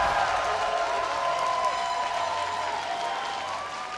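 Loud arena crowd at a North American League of Legends regional final cheering and applauding for Team Dignitas, a dense sustained roar with whistles and shouts that eases slightly toward the end.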